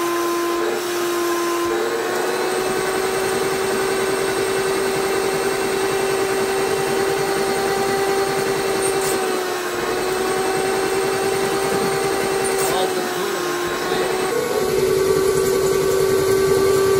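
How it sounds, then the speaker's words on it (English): A homemade carpet extractor vacuum runs continuously as it sucks in a water mist, giving a loud, steady motor whine with a hissing airflow that dips briefly a few times. "the vacuum is actually sucking the mist in"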